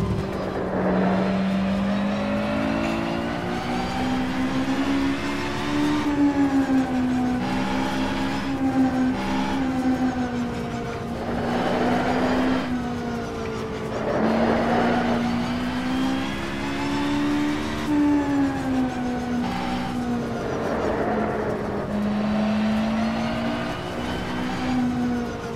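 Race car engine in rFactor 2 with very tall gearing, droning loudly and steadily as it revs up and down through long gears, with no voices.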